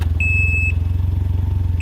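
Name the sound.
motorcycle reverse warning beep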